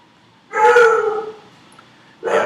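A dog gives two loud close howling barks, one long drawn-out call followed after a pause by the start of another, with little else around it.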